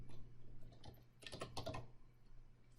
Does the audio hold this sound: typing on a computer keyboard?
yes